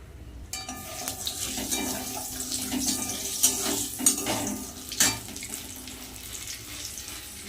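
Steady sizzling and crackling with a few sharper pops as snake gourd fries in hot oil in a wok, heard alone without voices.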